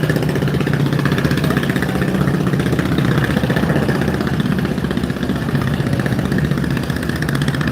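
A large passenger launch idles at a river ghat in Barishal, its engine droning with a steady mid-low rumble and rapid, even throb that carries on without a break.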